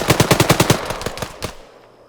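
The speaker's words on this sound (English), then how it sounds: "I hear gunshots" Rapid automatic gunfire in the Arma 3 jungle combat game, a fast run of about eight loud bursts followed by scattered single shots that fade into quiet.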